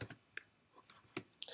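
A computer mouse gives several faint, sharp clicks at irregular intervals in a quiet room, with no talking.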